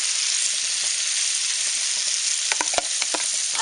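Cut green onions hit a hot wok for a Norwegian casserole, a bright, steady sizzle that holds throughout, and a few stirring scrapes and clacks near the end.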